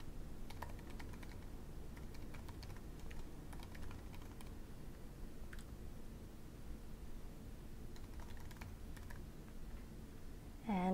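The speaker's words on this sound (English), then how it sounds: "So I'll just type mine in here." Keys on a computer keyboard are tapped in a quiet, irregular patter of soft clicks over faint background hiss, with a louder bump right at the end.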